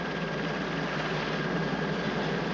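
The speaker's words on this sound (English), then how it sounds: "We've got a helicopter hovering above the train." A helicopter hovering above a moving train in a film gives a steady, dense engine and rotor roar that stays constant and loud for a few seconds, with no speech.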